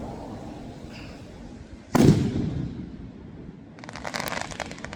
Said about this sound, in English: enjoy the fireworks